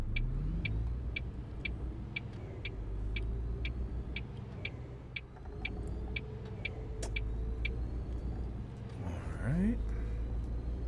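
Truck engine in the On The Road truck simulator, a steady low drone as the rig rolls along the road, with a regular ticking indicator clicking above it and a brief rising whine near the end.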